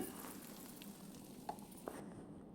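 Gongura chutney frying in a pan of tempering gives a faint, steady sizzle with a couple of soft clicks, heard alone.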